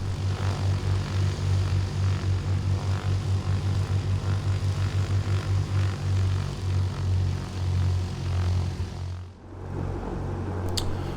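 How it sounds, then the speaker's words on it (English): Twin propeller engines of a Duchess Model 76 aircraft in the Prepar3D flight simulator drone loudly and steadily with a pulsing low throb, heard from outside the aircraft, then dip briefly before resuming. "We will jump outside so you can hear the noises of the engines outside the aircraft"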